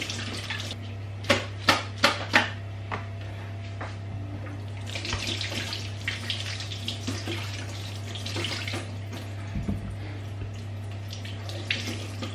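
Onions and potatoes are washed by hand in a basin of water, with splashing, sloshing and trickling that runs fairly steadily, broken early on by a few hard knocks of produce or a bowl, over a constant low hum.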